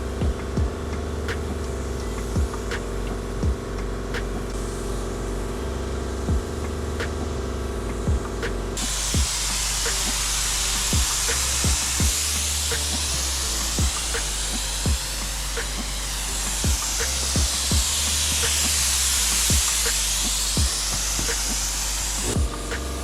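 HVLP spray gun with a 1.7 fluid tip laying primer coats on a Honda Civic EG body, a steady close hiss that starts partway through and runs continuously, with faint clicks and shop noise underneath.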